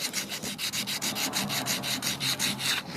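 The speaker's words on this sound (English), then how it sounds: "Sometimes you gotta go in those spots and just sand against it" Hand sanding an oak rocking chair during restoration: steady, rhythmic back-and-forth scratchy rubbing strokes of sandpaper on wood, about a dozen quick passes, close and continuous with no talking.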